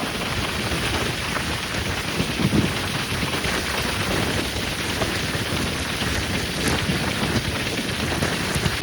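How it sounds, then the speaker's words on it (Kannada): Rain falls during a train journey near Mandya, a continuous hissing wash of drops blended with the steady rumble of the moving train, with no voices. "ಸೊ ಮಳೆ ಆಗಲೇ ಸ್ಟಾರ್ಟ್ ಆಗಿದೆ ನೋಡಿ"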